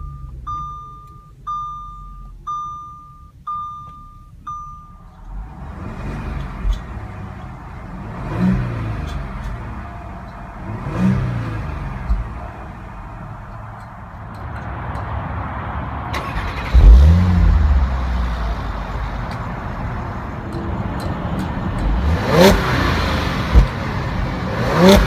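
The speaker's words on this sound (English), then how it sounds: "start it up and see how it sounds" A 2015 Audi SQ5 3.0T Quattro starts up after a few warning chimes, then its engine revs repeatedly in loud, close bursts that rise and fall over a steady idle.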